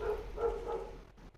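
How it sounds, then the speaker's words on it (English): A pet puppy barks at the mailman a few times, with short, muffled yips heard from a little way off indoors and no voices over them. "Sorry about my puppy. She's probably telling the mailman to screw off."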